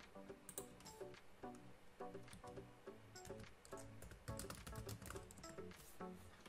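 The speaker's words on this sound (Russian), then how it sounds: "И вбиваю свой логин" Someone typing a login on a computer keyboard, producing a quick, irregular run of soft key clicks and taps, close by and quiet, with no one talking.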